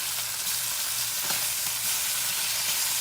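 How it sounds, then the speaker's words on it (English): Ham sizzles and crackles steadily in a hot pan, a bright continuous frying hiss with occasional pops and faint stirring clinks. "Frying ham makes a mess"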